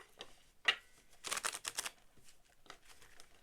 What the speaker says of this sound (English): Let me try to get one good shuffle in